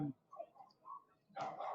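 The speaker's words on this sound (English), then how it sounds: "Those dogs are certainly cheering the team on." Dogs bark and yip from the stands at a minor league baseball game between the Florence Y'alls and Evansville Otters, scattered short yaps ending in a louder burst amid crowd noise.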